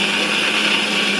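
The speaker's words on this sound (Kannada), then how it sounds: "ಮಿಕ್ಸಿಯಲ್ಲಿ ಹಲಸಿನ ಹಣ್ಣು, ಬೆಲ್ಲ, ಏಲಕ್ಕಿ ಹಾಕಿ ಮಿಕ್ಸರ್ ಮಾಡಬೇಕು." Mixer grinder blending jackfruit with jaggery and cardamom, a loud, steady, close whirring roar that runs unbroken with no talking.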